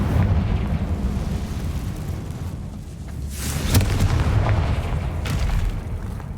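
Confringo fire spell blasts in Hogwarts Legacy, a booming explosion with rumbling low roar and sharp burst near the middle, over continuous game ambience.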